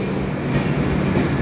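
A train stands at platform 1 of Baghshai station, a service running between Delhi and Kamakhya, giving a steady, loud, continuous rumble and hum with no distinct breaks.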